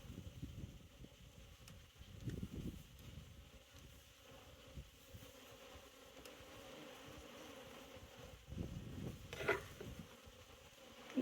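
Honey bees in autumn fly around an open hive during a Demaree-to-Snelgrove split, giving a faint, steady outdoor buzz that swells briefly a few times, with light rustling and no talk.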